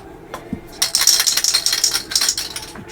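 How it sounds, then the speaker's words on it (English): Tamiya TS30 Silver Leaf aerosol spray paint being sprayed in a short burst of hissing bursts on 1/32 scale P-40E Warhawk model parts, close and moderately loud, with a small click before the spray starts. "I'll just give these a quick little spray."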